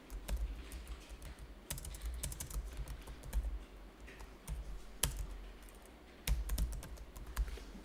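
Rapid, continuous typing on a computer keyboard fills the clip with close, crisp key clicks, sometimes bunched and sometimes spaced, over a low background hum with no talking.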